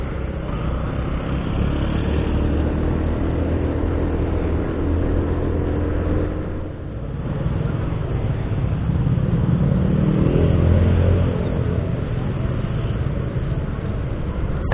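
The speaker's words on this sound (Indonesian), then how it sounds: "Ini mobil kenceng ya, udah pertik perempatan kenceng banget." A car passes fast through an intersection, its steady engine and road roar loud and close throughout, with a brief dip before the sound swells again.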